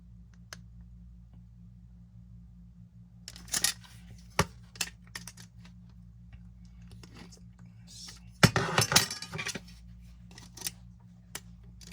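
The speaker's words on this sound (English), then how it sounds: "I'm trying to cut a small piece of wood just to show how it cuts." A 7-inch folding hand pruning saw cuts a small piece of wood in two short bursts of close, rasping strokes, with scattered light clicks and quiet pauses in between.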